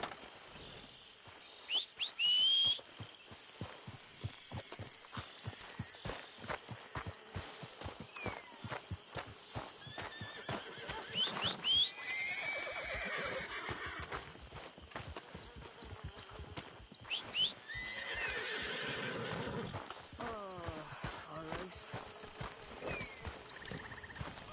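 A horse in the Red Dead Redemption 2 video game walks with a steady run of clip-clopping hooves, with a neigh and whinny rising in the middle and near the end, plus faint bird calls behind.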